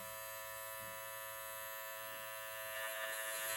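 Electric beard trimmer fitted with a zero guard, run along the cheek lines of a beard: a steady close motorized buzz with a constant hum that swells slightly toward the end, with no talking.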